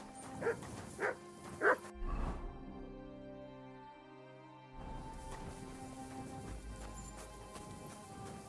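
A dog in the video game Kingdom Come: Deliverance II gives three or four sharp barks close by. Quieter ambient game sounds follow, with a brief lull in the middle.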